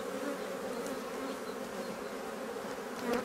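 Honeybees crawl over a brood frame in a spring hive, a dense, steady buzzing drone held close and even throughout, with no voices.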